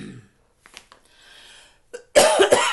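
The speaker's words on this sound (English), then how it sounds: "Coughing into my elbow." A few faint breaths and small throat sounds, then a sudden loud cough burst near the end, close and harsh.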